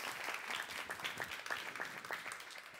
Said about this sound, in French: Super, on vous souhaite le meilleur, on va vous applaudir.